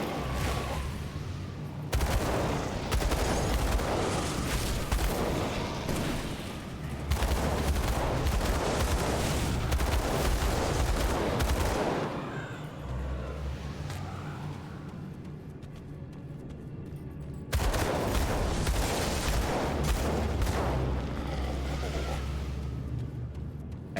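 Heavy, continuous gunfire from dual pistols in the video game Grim Dawn, loud and dense throughout, in sustained bursts with a brief lull near the middle.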